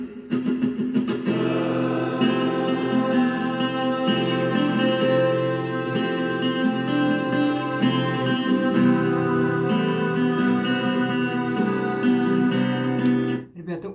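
A modern Russian pop song by the group «А кто поет?» plays with guitar and chiming bell-like tones over a steady beat, sustained and fairly full before stopping abruptly near the end.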